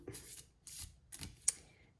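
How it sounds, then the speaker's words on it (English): Tarot cards are shuffled slowly by hand in three soft, papery riffling bursts spaced about half a second apart, close up with quiet gaps between them. "So it might not pop out because I'm shuffling so much slower."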